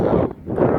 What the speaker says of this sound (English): taking this with my phone because it's really windy